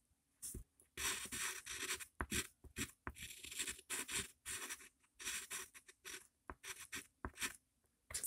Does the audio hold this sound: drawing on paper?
yes